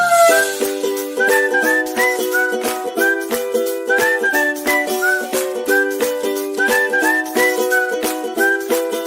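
A bright, tuneful whistled melody of quick repeated notes runs over a bouncy instrumental theme tune, steady and fairly loud throughout.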